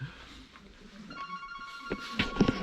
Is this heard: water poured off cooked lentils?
no